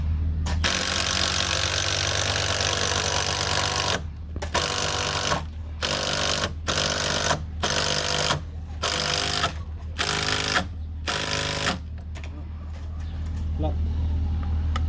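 A power driver sinks temporary screws into timber decking during a New Zealand deck build, whirring loudly in a run of short, evenly spaced bursts with brief pauses between them.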